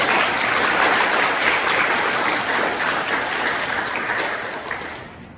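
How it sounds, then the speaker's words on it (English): A crowd applauds a panel discussion steadily, a dense wash of clapping that holds loud and then gradually fades out toward the end. "Let's give a round of applause to the panelists."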